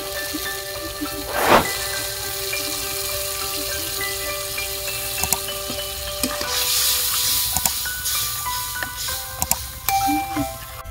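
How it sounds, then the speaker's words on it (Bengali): Ground spice paste and a splash of water hit a hot pan while cooking shukto, giving a steady close sizzle with a sharp hiss burst early on and light stirring clinks throughout. "এবারে বেটে রাখা মশলাটা দিয়ে দেবো। সামান্য একটু জল দিয়ে দেবো।"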